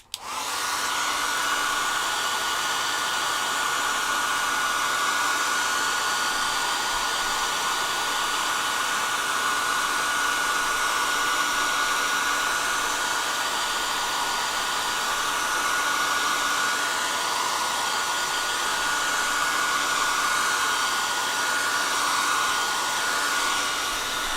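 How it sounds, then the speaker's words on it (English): A hair dryer is used to dry marker ink on a craft drawing, blowing in a loud, steady, continuous whoosh with a faint motor whine and no talking. "Right, hairdryer."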